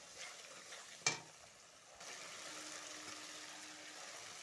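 Spice masala with garam masala being stirred and fried in a pan for a potol and prawn curry, a steady soft sizzle running through with a brief sharp scrape of utensil near the start.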